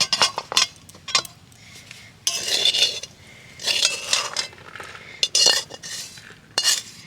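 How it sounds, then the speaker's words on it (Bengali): A thick semolina and palm fruit mixture is stirred in a pan over low heat, with a spoon scraping and clattering against the metal in loud, uneven bursts separated by short pauses. "আর এইভাবে আস্তে আস্তে মেশাতে হবে"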